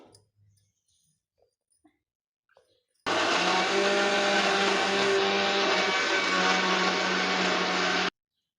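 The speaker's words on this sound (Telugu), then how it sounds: "వేసుకొని మిక్సీ పట్టుకుందాం కరేపాకు కూడా వేసుకుంటా" A kitchen mixer grinder whirs loudly, blending fresh curry leaves for a homemade juice; the motor starts abruptly and runs steadily at close range for about five seconds, then cuts off.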